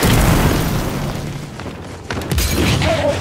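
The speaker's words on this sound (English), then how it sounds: "Incoming flashbang" A flashbang grenade going off in Gears 5, a loud close boom that decays into a rumbling, crackling tail, followed by a second burst of noise.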